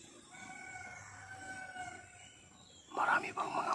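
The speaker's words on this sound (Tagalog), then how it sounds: "Marami bang mga manok dito na mga labuyo guys dahil po sa nandyan sa baba" A red junglefowl rooster crows from below in the surrounding area, its drawn-out harmonic call faint and distant, followed by a louder rustling clatter near the end.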